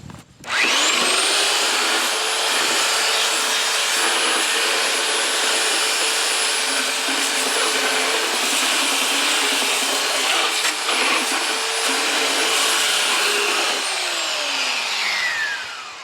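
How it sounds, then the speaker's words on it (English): A Jellas 8 amp electric belt sander working rough wood boards, starting up and running as a loud, steady, close whine with a constant abrasive roar, then winding down at the end. "Crazy good how much it sands."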